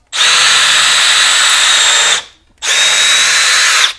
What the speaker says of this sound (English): So I'm going to drill 2 pilot holes here